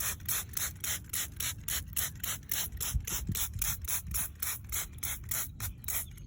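Repeated trigger pumps of a hand spray bottle applying organic herbicide, a steady rhythmic run of sharp clicking squirts, close and fairly loud, with no voices.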